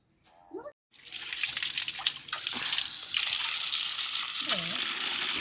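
Washing with water in a village home kitchen: a continuous splashing, gushing flow of water, close and fairly loud, with brief voices at the start and near the end.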